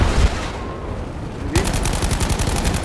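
Rapid automatic gunfire in the Battlefield V video game erupts halfway through, loud and close, in dense repeated bursts after a quieter first half.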